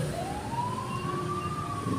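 A fire truck siren wails as it passes, rising then slowly falling in pitch, over a low rumble of traffic.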